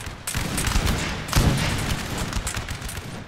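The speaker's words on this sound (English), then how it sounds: "there's just mighty firing here" Musket volleys crackle continuously in a Napoleonic Total War III battle, dense overlapping rifle fire with several heavier booms rolling through, loud and sustained with no pause.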